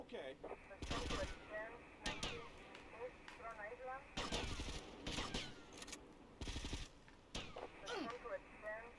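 Gunfire in GTA Vice City, several loud bursts of shots in quick clusters, mixed with game sound effects and someone talking between volleys.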